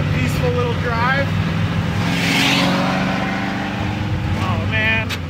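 A 1932 Ford Model A, an old car about 85 years old, drives along with a steady engine drone and some revving, continuous and fairly loud, with a person talking over it.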